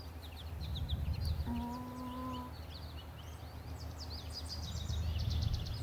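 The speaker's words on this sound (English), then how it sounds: "Do you guys hear all the bird sounds?" Birds chirp and trill through a spring woodland walk in Ohio, a dense chorus of short calls over steady outdoor background noise, with one lower sustained tonal call standing out briefly near the middle.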